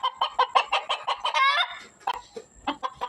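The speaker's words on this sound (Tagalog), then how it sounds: "Ingayan mo manok." A noisy rooster and chickens at a backyard garden in the morning, a rapid series of loud, close clucks building into a strained crow, then more scattered clucking.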